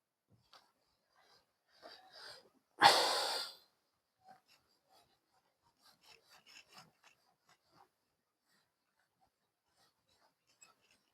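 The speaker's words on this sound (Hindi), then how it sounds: "इसे रब करते हैं।" A duster rubbing writing off a classroom board during a Class 12 maths lesson: one loud, broad rasping wipe of about a second and a half, close by, followed by faint scattered scrapes and small handling noises.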